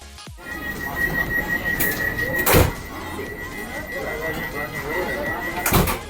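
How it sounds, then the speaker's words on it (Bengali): A steady electronic tone rings over a Vande Bharat train carriage rumble as automatic doors thump shut, with a second bang a few seconds later. "সিগন্যাল দিয়ে দরজা অটোমেটিক বন্ধ হয়ে গেছে"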